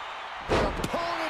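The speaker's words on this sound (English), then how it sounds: "Stops the attack with a hit to the gut." A heavy body blow lands in a WWE 2K24 tag-team wrestling match: a sudden loud thump with a second smaller impact just after, over steady arena noise.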